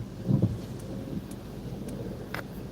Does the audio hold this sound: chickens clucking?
no